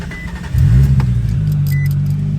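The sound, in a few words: drift car engine starting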